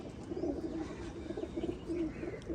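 Pet slate-grey flying pigeons coo in a low, faint, repeated murmur close by, rising and falling in short phrases over a quiet background.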